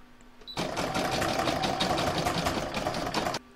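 An embroidery machine stitches decorative stitching along the join of a Christmas bauble design, with a steady, fast, mechanical whirring rattle that starts abruptly, runs evenly for about three seconds and then stops.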